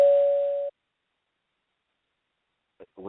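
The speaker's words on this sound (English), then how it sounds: "I heard the bell." A single bell tone rings out clearly for under a second to signal time during a debate, then cuts off into silence before a voice briefly starts speaking.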